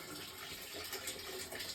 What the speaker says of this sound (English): Right, load of boiling water.